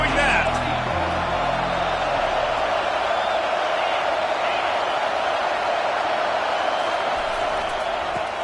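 Crowd at an XLC football game cheering and roaring as a steady, dense wash of noise that holds for the whole stretch, with a play-by-play commentator talking over it.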